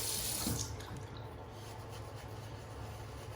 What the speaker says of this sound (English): we're going to slowly introduce water into this until we're happy with the consistency